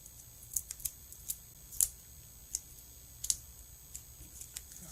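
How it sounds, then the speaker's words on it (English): Scissors snip through thick craft foam in a series of sharp, close crisp cuts spaced irregularly over a few seconds, faint against a quiet room hum. "let me cut this in half"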